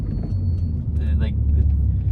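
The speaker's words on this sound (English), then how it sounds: "I just like the sound of the car." Volvo C30 car engine and exhaust with a Mountune CBV installed, a steady low rumble running close and fairly loud throughout the short stretch.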